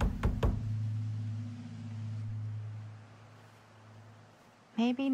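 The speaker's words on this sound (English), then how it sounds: "I'm sure knocking continuously will help the problem." Knocking on a door in the horror video game The Casting of Frank Stone: a few sharp raps at the start, then a low ambient hum, with a short voice near the end.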